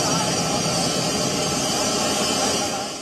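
Transport aircraft of several countries' air forces stand by the airport runway at night, their engines producing a loud, steady, close roar that fills the whole stretch without a break.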